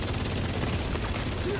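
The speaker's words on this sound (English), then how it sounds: "I'm going to shoot that one thing" Rapid gunfire in the online shooter The Division, a dense continuous rattle of shots that stays steady and loud, with talking mixed in.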